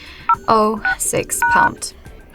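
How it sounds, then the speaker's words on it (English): Dialing the IMEI code on the keypad of a CAT S53 phone brings short, crisp keypad tones in a quick irregular series, heard close up with a voice talking over them. "So let's tap on the keypad."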